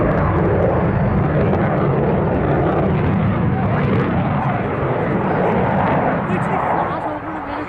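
A Eurofighter Typhoon at an airshow roars past with reheat on after a hard turn, a loud, dense, continuous jet rumble filling the whole stretch and easing slightly at the end.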